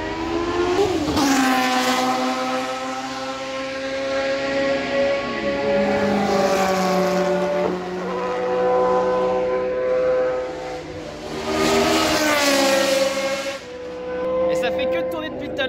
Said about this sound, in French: là c'est les anciennes F1, là, les F1 historiques qui font des tours depuis tout à l'heure